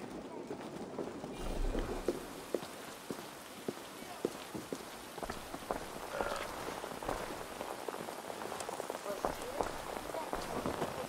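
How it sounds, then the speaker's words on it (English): Steady rain patters across surfaces in Assassin's Creed Valhalla during the siege of Paris, a dense hiss of drops with scattered sharper ticks, constant and enveloping with a voice murmuring underneath. "It's a beautiful day and now it's raining."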